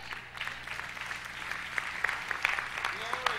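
A church congregation at a sermon breaks into moderate applause, a soft, steady patter of many hands with a few sharper claps, while voices carry over it.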